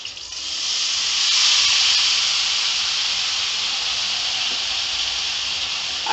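Grated sweet potato hits a hot pan with green chilies, setting off a steady, loud sizzling hiss that swells quickly and holds evenly for several seconds.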